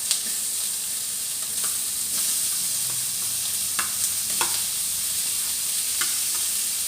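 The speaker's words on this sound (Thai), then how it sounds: "คัดเนื้อให้สุกด้วยค่ะ" Beef stir-fried with curry paste in a pan gives a steady, close sizzle and hiss, broken by scraping stirs and clatter from the utensil, with no voices.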